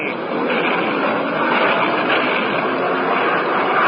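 Steady droning aircraft engines, a radio drama sound effect for planes on a wartime raid, hold a loud, even hum throughout without voices.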